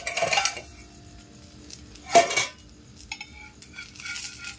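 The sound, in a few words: lifting a pot lid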